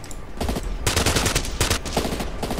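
Rapid gunfire from a weapon in the video game SAS Secure Tomorrow, dense bursts of shots rattling loudly from start to end with brief gaps, close and dominant.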